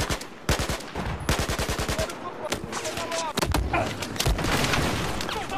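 Rapid bursts of gunfire in the video game Battlefield 4 crackle in quick, machine-gun-like volleys, with single shots and booms mixed in, loud and close, with voices talking over them.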